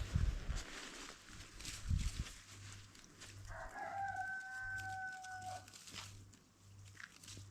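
On a small farm, hens shut in for the winter cluck faintly in the distance while a rooster lets out one drawn-out crow midway, all quiet and somewhat muffled against low background noise.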